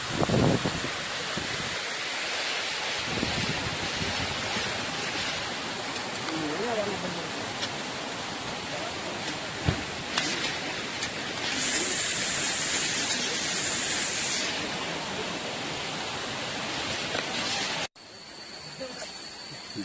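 Curug Ngebul, a 70-metre waterfall swollen in the rainy season, roars as a steady broadband rush of falling water, with a voice speaking over it and the noise dipping abruptly near the end.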